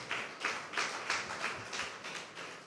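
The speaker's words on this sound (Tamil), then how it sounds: "நல்லா கைத்தட்டி ஆண்டவருக்கு நன்றி சொல்லுங்களேன்." A church congregation claps in thanks to the Lord, a run of crisp, fairly rhythmic hand claps repeating about every third of a second, moderately close and steady, with no voices over it.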